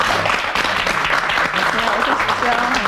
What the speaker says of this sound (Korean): 따뜻하게 박수로 맞이해 주십시오.